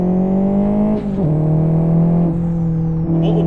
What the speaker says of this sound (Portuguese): o ronco dele tá muito bom